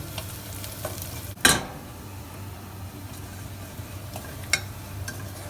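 Paprika frying in oil with a steady low sizzle, broken by one sharp scrape-and-stir burst near the start and a few lighter clicks of the utensil against the pan, close and moderately quiet.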